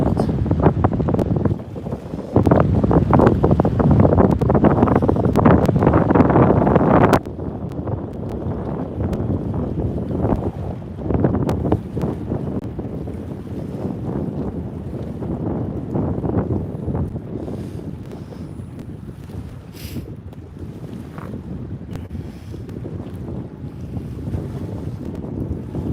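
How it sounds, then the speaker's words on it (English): Strong wind buffets the microphone during a blue catfish fishing outing on icy water, a loud steady roar that surges heavily through the opening seconds, then settles into a continuous lower rush with occasional gusts. "the wind is blowing so hard"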